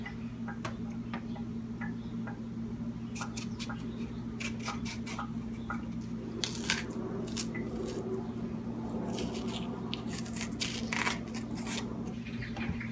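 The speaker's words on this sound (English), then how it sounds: "you could basically just stick your nail or your finger underneath those, and the skin should peel right off" Fingers peel the skin off a plantain by hand in a home kitchen making Haitian food, producing irregular soft tearing, squishy snaps and clicks near the microphone over a steady low hum, with no talking.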